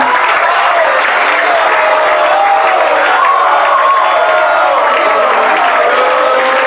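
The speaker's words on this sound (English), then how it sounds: "I'd just like to give a special round of applause for Yasmin" A banquet audience at the IMG Academy boys soccer program gives a loud, dense, sustained round of applause, continuous clapping filling the room with some scattered voices underneath.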